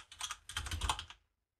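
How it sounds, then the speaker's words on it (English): Typing the word disabled into a web form field on a computer keyboard, two quick bursts of close, crisp key clicks, then silence. "we can do that simply by typing disabled into the relevant field, into this selected field here"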